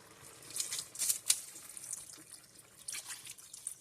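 Chicken broth is poured into a soup pot for sausage, kale and potato caldo verde, giving quiet, uneven splashing and trickling in several short bursts with no talking.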